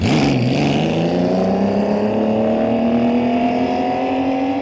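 IndyCar race car at Indianapolis driven at full throttle in top gear, its engine note climbing steadily after an opening shift into a loud, sustained high-pitched scream close to the listener.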